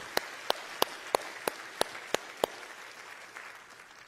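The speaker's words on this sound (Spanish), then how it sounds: "Dale un fuerte aplauso a Él." A church congregation clapping during a service: about eight sharp, evenly spaced claps in unison, close and crisp, before the sound fades into quiet room tone.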